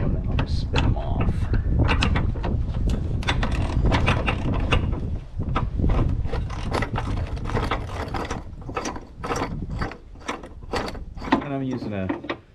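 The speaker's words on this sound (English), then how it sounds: "And I'm using a wobble socket just to make it a little easier to get in there." A ratchet with a wobble socket spins loosened bolts off a Jeep XJ rear hatch in quick, steady clicking bursts up close, under continuous talking.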